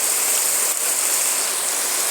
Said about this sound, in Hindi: ये देखिए दोस्तों हमारे तरफ इतनी जोर से बारिश हो रही है, बहुत ही जोरों शोरों से बारिश हो रही है